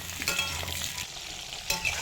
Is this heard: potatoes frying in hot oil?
yes